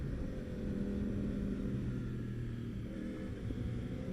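A race car engine roars steadily and loudly on the counterclockwise Buttonwillow circuit, a continuous close-up rumble with slight shifts in pitch as it drops gears.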